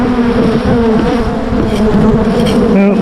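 Honeybees swarm around an opened hive after a freeze, giving a loud, close, continuous buzzing drone with shifting pitch as agitated bees fly near.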